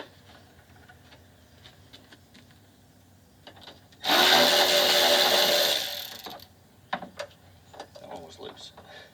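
A rapid ratchet spins in one steady, loud two-second burst while 10 mm front bumper bolts come off a 2003-2005 Mercedes W163, with quieter clicks and handling noises before and after.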